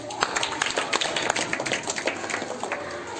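A school audience at an Independence Day program claps in a crisp, uneven round of applause, individual hand claps distinct and moderately close, lasting a few seconds.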